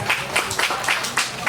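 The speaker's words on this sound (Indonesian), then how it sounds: "Tepuk tangan sekali lagi Bapak." Clapping from a gathered audience at a community neighborhood association (RW) chairman candidates' vision presentation, a few bursts of hand claps that are fairly close and moderately loud, with no talking over them.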